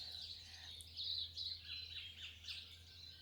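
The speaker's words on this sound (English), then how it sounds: "just listening to the birds." Outdoors, birds sing a busy, overlapping stream of high chirps and warbling phrases without a break. The song is faint and distant over a low background hum, and nobody talks.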